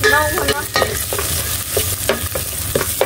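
Garlic frying in a hot pan as it is stirred, a steady close sizzle with repeated scraping and clinking strokes, no voices.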